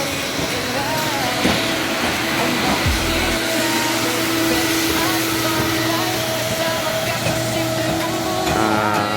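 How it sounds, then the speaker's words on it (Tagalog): A floor scrubber cleans a floor during general housekeeping of a second-level area, giving a loud, steady motor whine and drone that runs without a break, with voices faintly audible underneath. "Using the scrubber, yeah, floor scrubber."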